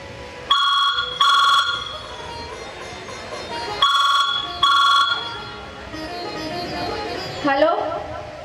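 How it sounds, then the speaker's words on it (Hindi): A telephone rings in a doctor's practice, sounding in two paired bursts of bright, trilling rings separated by a short pause, loud and close, followed by shuffling noise. "फोन की रिंग बजते हैं"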